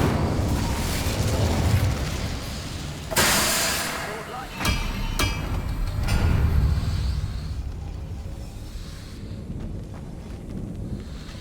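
An Incendio fire spell is cast in Hogwarts Legacy, giving a loud whooshing burst followed by rumbling flame and crackling impacts over a dense game soundscape.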